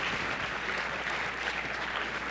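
Brief burst of audience applause at a church conference session, a thick, steady wash of many clapping hands throughout, heard from within the crowd.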